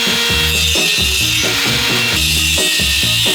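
A hand saw cutting wooden roof-truss timbers while framing a garden shed, with loud, close back-and-forth strokes in a steady rhythm and a brief pause between bursts.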